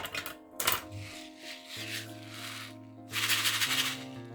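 A die-cut autumn shaker card is shaken, giving short bursts of light clicking, tumbling rattles over soft background music, one brief shake near the start and a longer flurry later.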